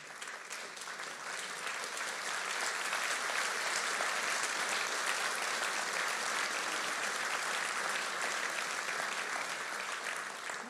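A lecture audience applauds at a closing conference talk, continuous, full-bodied clapping from many hands that swells slightly and stays loud and even for about ten seconds, with no speech over it.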